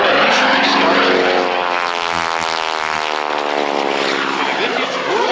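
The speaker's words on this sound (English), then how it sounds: "you can see the beautiful airplane as she comes around the backside once again" A Stearman PT-17 Kaydet biplane flies a loop at an air show, its radial engine droning loud and steady, rising then easing slightly as it passes overhead, with an announcer talking over it.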